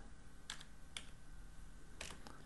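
A few quiet, isolated keystrokes tap on a computer keyboard, three or four sharp clicks spaced unevenly against a soft background hum, with no voices.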